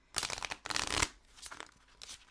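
A large deck of tarot cards with a textured, rose-petal finish is shuffled by hand in piles, giving soft papery riffles and slaps in several uneven bursts with quiet pauses, close and gentle.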